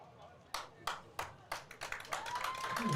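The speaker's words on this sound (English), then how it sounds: "that is the fans clapping Gio Barrios as he stands up and walks off the field under his own power" Fans at a JV high school football game clap for an injured player walking off the field, scattered distinct claps building into steadier clapping, with faint voices and a brief whistle-like tone beneath.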